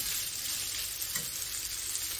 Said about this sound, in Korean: 파 마늘을 넣고 볶다가